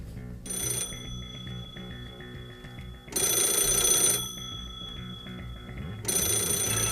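An old black telephone's mechanical bell rings in two long, loud bursts separated by a pause, with the start of a third burst at the end, over a low background hum.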